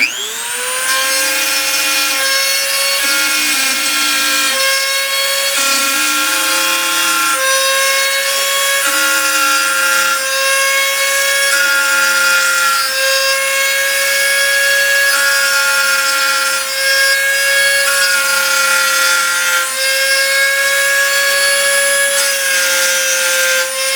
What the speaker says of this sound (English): I'm going to go ahead and route this first piece here